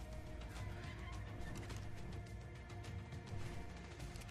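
A large bird creature screeches in the video game Ark Survival Evolved, a loud, harsh, continuous squawking cry layered over dense game noise with no talking.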